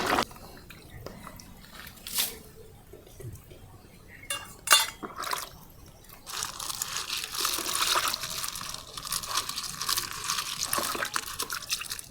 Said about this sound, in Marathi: आता आमचे खेकडे साफ करून झालेले आहेत तर आम्ही आता धुवून घेणार आहोत पाण्यामध्ये